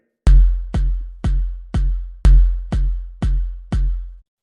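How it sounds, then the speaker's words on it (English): A basic 4/4 drum beat of eight evenly spaced, punchy low hits, each decaying quickly, with the first and fifth accented, close and dry with no talk. "that's the sound of a basic 4/4 beat"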